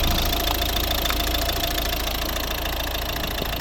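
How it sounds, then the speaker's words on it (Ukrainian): A 1.6-litre diesel engine in a 2011 Volvo S40 idles steadily nearby with a continuous, slightly knocking rumble and no talking. "Ось робота двигуна."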